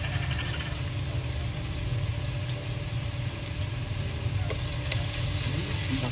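Ginger aromatics sautéing in a pan give off a loud, steady, broadband sizzle. The frying hiss runs continuously throughout, with faint stirring scrapes underneath.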